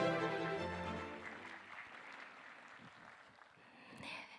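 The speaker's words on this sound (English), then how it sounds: "Let's give another big round of applause" Audience applause at the Korea Global Adaptation Week 2023 opening ceremony, a soft, distant patter of clapping that follows fading speech and continues at low level throughout.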